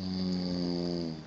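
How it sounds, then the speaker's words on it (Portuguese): A man snoring loudly with a steady buzzing, engine-like drone, one long sustained rasping breath that tapers off at the end, no talking. "o cara que ronca como se fosse uma corrida de Fórmula 1"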